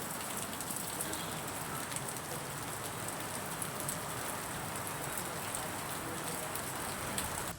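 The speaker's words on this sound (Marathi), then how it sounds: "वादळी वाऱ्यासह मुसळधार पावसाला सुरुवात झाली आहे" Heavy rain pours down steadily during a storm with strong wind, a dense, even hiss of drops striking surfaces throughout, with no voices.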